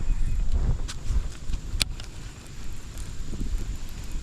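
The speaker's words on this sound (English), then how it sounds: "The wind's blowing" Wind gusts buffet the microphone outdoors on a lake, a loud, low rumble that surges and eases, with a few faint knocks and rustles mixed in.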